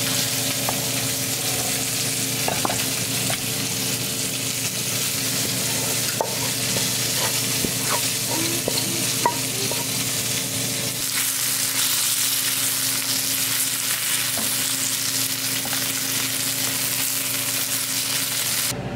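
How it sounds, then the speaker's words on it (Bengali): Spicy mustard curry with black cumin frying and being stirred in a pan: a steady, close sizzle throughout, broken by scattered clicks and scrapes of a utensil against the pan, with no talking. "ওইটা সরিষা দিয়ে ঝাল রান্না করছি"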